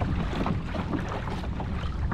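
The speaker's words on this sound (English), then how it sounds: "the wind's blowing me all over the place" Steady wind buffeting the microphone on a breezy rock wall by the sea while fishing, a continuous low rumbling roar with no pauses and no talk.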